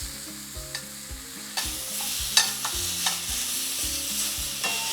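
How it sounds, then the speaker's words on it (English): Hanger steaks sautéing in olive oil in a pan, a strong steady sizzle with sharp spatters and a few louder crackles as the meat is turned, close and with no voices, while a low tonal hum sits beneath. "saute the steaks for 4 to 5 minutes, turning frequently"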